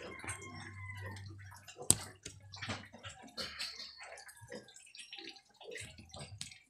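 Water splashes and trickles into a basin while washing a piglet, with drips, sloshing and a sharp knock amid a low hum, fairly quiet.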